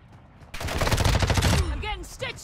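Sustained rapid automatic gunfire in Call of Duty DMZ, fired at a bot on Ashika Island, a loud dense burst of about one second followed by chirpy game sounds and a voice.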